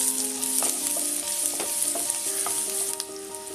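Onion and curry leaves sizzle in a spoonful of hot oil while being stirred, a steady close frying crackle with a few sharp scrapes and clicks, no voices.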